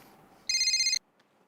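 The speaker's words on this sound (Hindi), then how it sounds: "ओ, विनोद भाई का फोन है" A telephone rings once in a Hindi sitcom scene, a single loud electronic trilling burst about half a second long against a quiet room.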